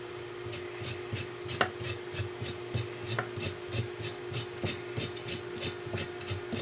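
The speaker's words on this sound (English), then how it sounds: "I love peeling a carrot this way." Serrated knife scraping along a carrot as it is peeled, quiet rhythmic rasping strokes repeating at a steady pace, close and soft with no talking.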